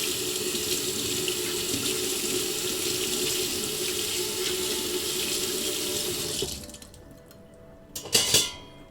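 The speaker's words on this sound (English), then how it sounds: "I'm gonna rinse the spoon." Spoon rinsed under a running kitchen tap: steady loud water splashing into the sink for about six seconds, then the flow stops, followed by a brief clatter of metal in the sink.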